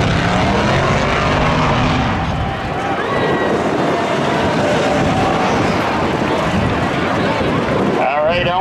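A 1991 Chevy Camaro drag racing at Seekonk Speedway's spectator drags, a loud, steady engine roar filling the whole stretch up close, easing slightly midway before building again and ending in a brief rough burst.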